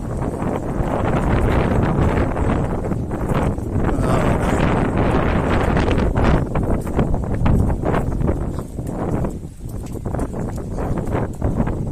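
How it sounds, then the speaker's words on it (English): Strong wind buffets the microphone in a steady, roaring rumble with gusty surges throughout and no voices. "a little bit windy when you get off that front."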